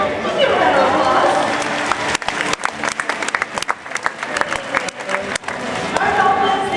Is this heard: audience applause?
yes